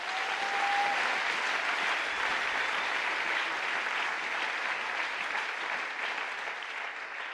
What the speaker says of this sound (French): Acclamons la Bible.